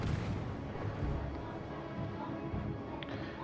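Naval gunfire from the battleship HMS Tiger firing on a Kongo-class ship in World of Warships Legends, a dense, steady rumble of distant booming salvos that runs throughout at moderate level.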